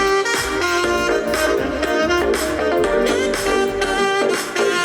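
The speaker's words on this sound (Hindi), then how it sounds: "इसका मैं देने जा रही हूँ आपको डेमो कि इसके साउंड जो है वो कितना हाई है" An Audionic Air Station speaker plays music with a steady beat, strong bass and bright upper tones, loud and continuous throughout.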